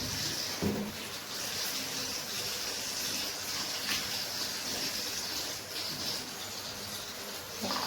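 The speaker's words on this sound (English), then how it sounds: "Turn down the water." Water runs steadily from a kitchen tap while Jamaican curry chicken and rice are prepared, a continuous close hiss with no talk over it.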